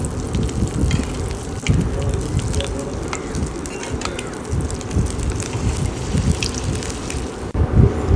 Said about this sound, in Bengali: আমি একটু তেল ছিটিয়ে দিচ্ছি উপর থেকে তাহলে উপর থেকে আরও বেশি ফুলে উঠবে